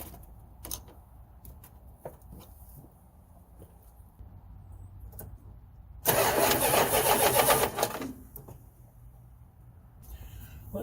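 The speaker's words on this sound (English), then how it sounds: "I just want to hear what it sounds like as we're cranking it over now that spark plugs are back in it" A 1971 Chrysler 300 engine with its spark plugs freshly reinstalled cranks over in a yard for about two seconds, a loud, dense, rhythmic churning that stops abruptly, surrounded by quieter clicks and handling noises.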